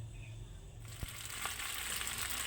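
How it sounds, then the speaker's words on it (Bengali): Onion, green chili and egg frying in hot oil in a home kitchen, a soft sizzle that begins after a short pause and continues steadily, with a utensil clink partway through. "এই যে দেখো ভেজে নিচ্ছি পেঁয়াজ কাঁচা লঙ্কা আর ডিম দিয়ে"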